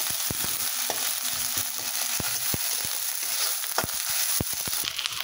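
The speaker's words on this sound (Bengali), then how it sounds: "তারপরে দিচ্ছি আদা রসুন পেস্ট 2 চা চামচ। এই পেঁয়াজটাকে এখন লাল করে ভেজে নিতে হবে।" Sliced onion fries with ginger garlic paste in hot oil in a home kitchen, giving a steady close sizzle broken by sharp clicks and scrapes as it is stirred.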